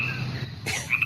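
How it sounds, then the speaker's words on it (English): A played sound effect meant as crickets comes out as a steady shrill insect-like chirring over low frog-like croaks, cutting out partway and resuming with brief bright chirps, moderately loud and without talk. "That was supposed to be the cricket sound."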